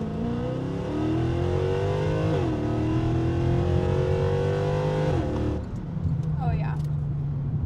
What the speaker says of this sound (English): this thing shifts really well, and it also backfires some pops at you when you let off the gas